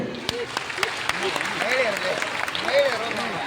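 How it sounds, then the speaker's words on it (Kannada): Audience of women clapping together at a live comedy show in a hall, a steady dense patter of applause with a few sharper individual claps, fairly near and continuous throughout. "ಒಂದು ಸಾರಿ ಬರೀ ಮಹಿಳೆಯರು ಮಾತ್ರ ಚಪ್ಪಾಳೆ ಕೊಡಿ"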